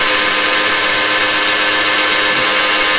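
A Tractor Supply electric chainsaw sharpener grinds a chain cutter with a loud, steady, high-pitched whine that holds unbroken throughout, close up.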